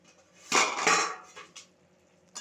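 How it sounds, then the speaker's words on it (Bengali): A metal lid lifted off a pot of cooked chicken, giving two close, bright clanks of metal on metal, then a few lighter knocks and a final clink, with no talk. "আমি চাপাটা খুলে দেখবো মাংসটা হয়েছে কিনা সেদ্ধ"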